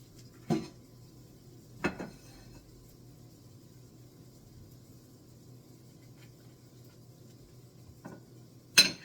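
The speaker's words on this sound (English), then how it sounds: "Cut up another mushroom." Knife cuts through mushrooms on a cutting board, with four sharp, separate chops spread across a quiet stretch, two near the start and two near the end.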